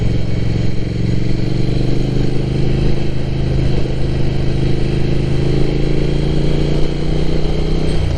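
Twenty-year-old Ducati motorcycle on the road, its engine a steady loud drone with wind noise throughout, close and continuous without talk.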